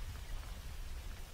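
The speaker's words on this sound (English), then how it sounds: "Gastroke is loving this rain" Steady rain falls in the Roblox game Loomian Legacy, a faint, even hiss of drops with no voices over it.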